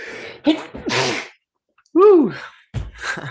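A loud, sharp sneeze bursts out between other short vocal sounds and exclamations, close to the listener.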